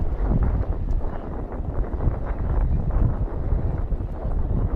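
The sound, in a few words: wind gusting over a baseball field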